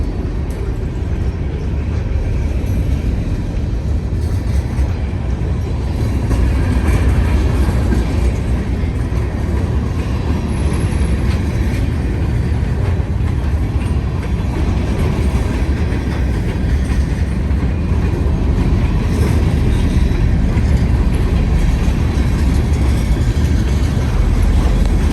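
A freight train rolls past on an elevated curve with a cut of boxcars, sending out a loud, continuous rumble and rattle with wheel clatter that carries on steadily from start to finish.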